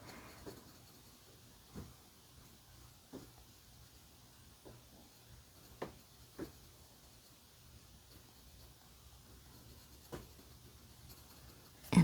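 A black colored pencil scratches across paper in soft, quiet strokes, with a faint steady hiss between the sharper scribbling bursts.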